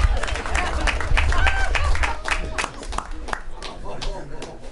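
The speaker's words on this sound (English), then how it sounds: "Give yourself a big round of applause for that." An audience at an event in Northport claps and cheers in a dense, sustained round of applause, with a voice speaking over it.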